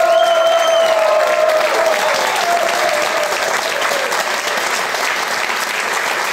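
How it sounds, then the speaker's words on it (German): A studio audience applauds steadily for a guest arriving on a Swiss cooking show, a dense, loud wash of clapping from start to finish with a faint tone and voices mixed in. "Herzlichen Applaus, hier ist der Christoph Bieri!"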